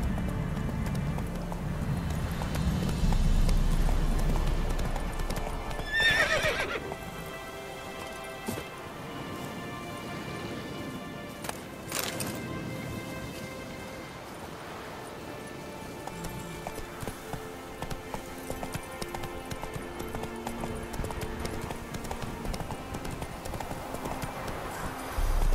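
Horse hooves clip-clop steadily at a gallop in The Witcher 3: Wild Hunt, with patter like rain in the background, a brief whinny-like burst, and a voice spurring the horse on.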